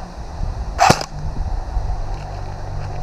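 A single sharp, snappy M4 airsoft rifle shot cracks close by, followed by quiet outdoor background hum.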